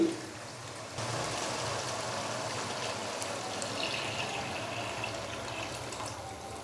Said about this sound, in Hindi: तो अभी मैं इसके अंदर डालूंगा पानी।